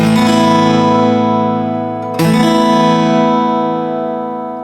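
A sus2 chord strummed once on guitar, ringing out with a sustained harmonic decay, then struck again about halfway through and left to fade, with no voices.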